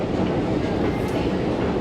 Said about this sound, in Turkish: Bu tramvaylar durmadan devamlı hareket halinde.